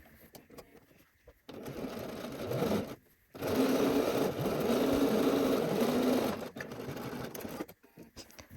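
A sewing machine runs in two bursts while stitching a shirt seam: a brief start, then a longer steady whir lasting about three seconds, set against a quiet room.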